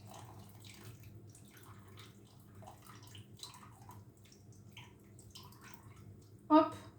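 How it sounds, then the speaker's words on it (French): Plain tap water is poured for homemade bread roll dough. It is a faint, steady trickle under soft voices, ending with a brief louder splash or clatter. "c'est de l'eau du robinet toute simple"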